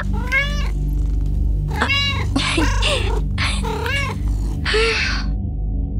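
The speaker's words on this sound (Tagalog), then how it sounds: "Pusa!" A cat meows repeatedly at close range, several loud drawn-out cries with a couple of harsher overlapping calls, over a steady low hum.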